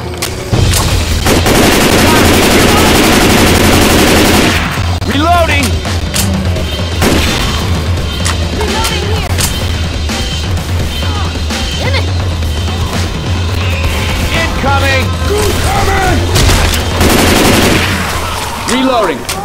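Rapid gunfire bursts and booming shots from Left 4 Dead 2 in a swamp level, loud dense volleys in the opening seconds and again near the end, with quieter clatter and scattered shots between.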